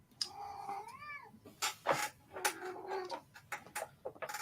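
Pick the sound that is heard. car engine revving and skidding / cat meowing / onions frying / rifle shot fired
cat meowing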